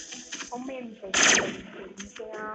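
A rapid burst of automatic gunfire cracks out sharply for about half a second, surrounded by softer game sound effects and background noise.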